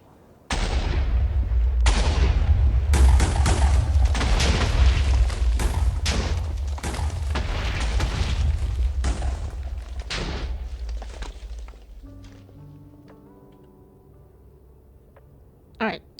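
A long run of heavy, rapid booming blasts from a Minecraft explosion in the Nether rolls on for about ten seconds, loud and dense, then fades into a quieter tail with a final sharp thump.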